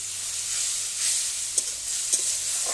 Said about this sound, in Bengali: লঙ্কার গুঁড়ো দিয়ে আমি অল্প একটু জল দিয়ে দিচ্ছি, দিয়ে আমি মশলাটাকে কষিয়ে নেব ভালো করে